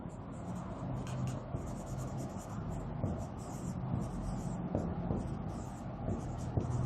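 A pen or marker writes equations by hand on a board during an optics lecture, a steady scratching and tapping that runs continuously at moderate level.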